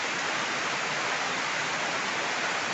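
Steady rain falling, a dense continuous hiss filling the whole stretch evenly with no gaps, fairly close and uniform, with no voices or other sounds over it.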